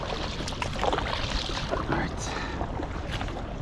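Packraft paddled hard across open water, with steady splashing strokes and watery churn under continuous wind buffeting on the microphone, fairly close and loud throughout.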